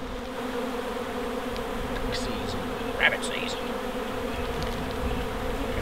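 Wild honey bee swarm droning steadily throughout, a dense continuous buzz with someone talking briefly over it.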